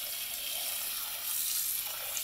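Tap water running steadily into a pot to cover turkey giblets in a kitchen sink, a continuous bright splashing rush, close and moderately loud, with no talk.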